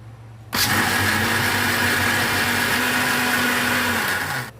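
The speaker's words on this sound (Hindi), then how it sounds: "चावल जो है वो ब्लेंडर में डाल दिए हैं।" A blender motor whirs loudly and steadily for about four seconds after a sudden start, grinding rice with milk with a constant drone before cutting off.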